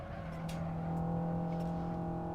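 A race car engine in a sim racing game drones at a steady, fairly high pitch, holding a sustained whine with faint ticks above it and no talk.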